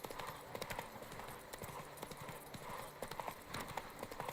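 Roach, a horse in the Witcher video game, trots along a road in Toussaint, with rhythmic clip-clop hoofbeats steady and close under soft ambient game sound.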